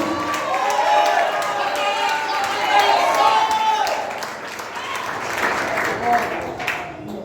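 A church congregation at a prophetic seminar applauds and praises, sustained clapping mixed with crowd voices and cheering, moderately loud throughout with voices audible over it.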